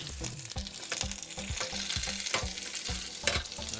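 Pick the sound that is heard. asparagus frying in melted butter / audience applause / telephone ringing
asparagus frying in melted butter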